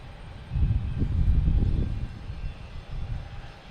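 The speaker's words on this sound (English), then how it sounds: "And we got a JetBlue here getting ready to go." A JetBlue Airbus A220 jet takes off at Logan Airport, a loud, low engine roar that swells and then holds as a steady rumble, with no voices.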